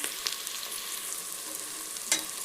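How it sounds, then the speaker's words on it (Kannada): Mustard seeds, onion and curry leaves frying in a pan for savige upma, a soft steady hiss with a couple of sharp pops or clinks, fairly faint. "ಸಾಸಿವೆ, ಈರುಳ್ಳಿ ಎಲ್ಲ ಹಾಕಿದ್ದೀನಿ. ರೈಟ್, ಇದು ಸ್ವಲ್ಪ ಫ್ರೈ ಆಗೋವರೆಗೆ ಈ ರೀತಿ ಮಾಡ್ತಾ ಇರಬೇಕು."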